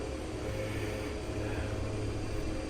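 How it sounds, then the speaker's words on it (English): A small short-takeoff-and-landing cargo airplane cruises at about 140 knots, its propeller engine a steady, loud, continuous drone heard from inside the cabin. "Which, not bad for a little airplane."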